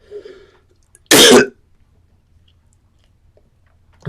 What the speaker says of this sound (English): Man, I got this coughing fit.